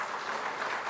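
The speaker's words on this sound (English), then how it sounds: "I'm waiting for you to clap." Audience applause at a university publishing studies programme's 40th anniversary launch, a steady dense patter of clapping hands filling the whole second without pause.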